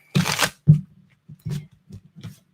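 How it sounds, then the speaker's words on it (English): Tarot cards being shuffled at close range in a few short riffling bursts, the first longest and loudest, followed by softer brief flutters and pauses; no talking. "One more shuffle here."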